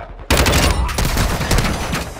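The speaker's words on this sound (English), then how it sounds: "Taking effective fire!" Dense automatic gunfire in Call of Duty on Ashika Island erupts suddenly after a brief quiet moment, then continues as a loud, rapid stream of close shots with overlapping bursts.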